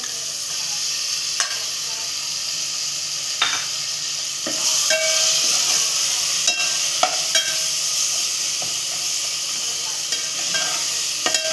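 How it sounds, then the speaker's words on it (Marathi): Two spoons of ginger-garlic paste sizzling in a pan for a spicy prawn rice dish, a steady hiss at close range punctuated by sharp clinks and scrapes of stirring, growing louder partway through. "आता आलं लसूण पेस्ट टाकतोय 2 चमचे"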